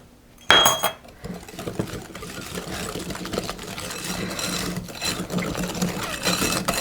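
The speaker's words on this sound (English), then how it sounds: "So give it a good stir in there. Make sure all the sugar's incorporated." A utensil stirs sugar into a creme brulee mixture in a bowl, starting with a sharp clink, then continuous scraping and clattering against the bowl's sides, close and moderately loud, with no talking.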